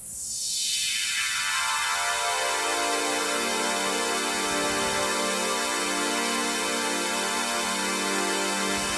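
A sustained synth pad in Ableton swells in as an envelope-controlled high-pass filter sweeps open, starting muffled and low then brightening into a dense, steady wash of high tones that holds for several seconds.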